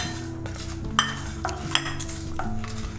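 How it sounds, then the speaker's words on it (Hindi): Whole spices, fenugreek seeds, carom and mace, dry-roast in a pan for chole masala, giving soft scraping stirs and a few sharp metallic clinks of spoon on pan under quiet background music. "बस ये खड़े मसाले भुन जाएंगे तो फिर हम गैस बंद कर देंगे।"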